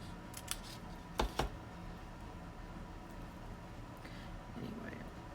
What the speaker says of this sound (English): trim this up. It's pretty easy to cut here.